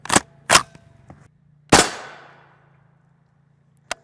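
A Springfield Hellion rifle with a 16-inch barrel fires at a steel armor plate, giving sharp, loud cracks with a metallic clang. Two quick shots come first, then a louder one with a ringing decay, then a faint final hit.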